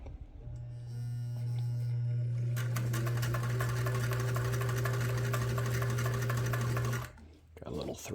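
Singer 328K sewing machine running a stitching test after motor mount bushing work, a loud, steady motor hum with rapid needle clatter building in, running about six seconds before stopping, no talk over it.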